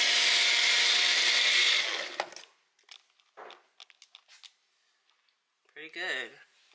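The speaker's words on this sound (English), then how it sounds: "So I saw that they had the small blender and wanted to try it." A small blender whirs loudly and steadily while making a protein smoothie, then cuts off, followed by soft handling clatter and a brief voice.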